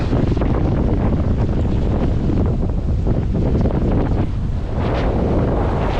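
Strong, constant wind roars across the microphone without letup, a heavy low rumble with the wash of sea faintly beneath it.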